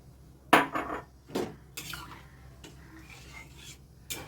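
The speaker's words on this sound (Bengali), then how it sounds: "এই জলের মধ্যে তিলের যে গুঁড়োটা করেছি সেটা আমি আস্তে আস্তে করে ঠেলে দিয়ে এটাকে জলের সঙ্গে মিশিয়ে নেব" Ground sesame powder is pushed into water in a pot with a spoon, giving a few clinks and scrapes of metal on the pot among quieter stirring noises.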